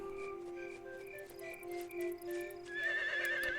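A horse whinnies in the farming video game Harvest Moon: The Winds of Anthos, with a soft repeating neigh-like call over a quiet backdrop of insect chirps and faint hoof clops, growing busier toward the end.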